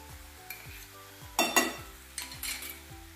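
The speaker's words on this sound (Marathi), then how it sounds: "सगळं व्यवस्थित आपण हे एकत्र करून घेऊया" Sauces being stirred together in a pan for Chinese cabbage, with tomato ketchup, green chilli sauce, red chilli sauce and a little sugar; a spoon scrapes and clinks against the pan in short bursts over a faint background hum.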